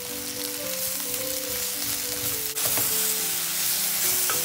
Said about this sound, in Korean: 냄비에 올리브유를 두르고 파와 양파를 먼저 볶아주세요.